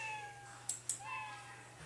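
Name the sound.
Scratch cat meow sound effect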